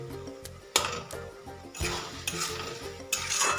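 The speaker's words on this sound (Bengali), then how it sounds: "মাঝের মধ্যে একবার করে আমি নেড়ে চেড়ে নিচ্ছি" A spoon stirs and scrapes through a thick tomato and potato masala in a frying pan, giving repeated clinks and scrapes over a steady sizzle of oil.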